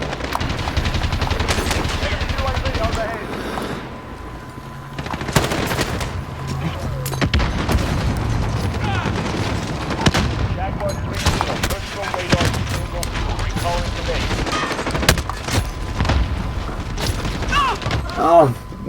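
Gunfire in Call of Duty: Modern Warfare, repeated bursts of automatic and single shots with booming impacts across a busy multiplayer match, mixed with game voices and speech over the top.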